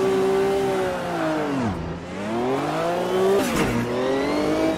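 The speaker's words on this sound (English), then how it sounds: "Just wait for these cars to go by" Race cars in the Automobilista 2 racing video game, a World Sportscar Championship event, roar past one after another, engine notes climbing and dipping as each car approaches and recedes, with loud overlapping revs.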